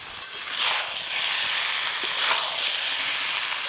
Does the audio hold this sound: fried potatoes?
yes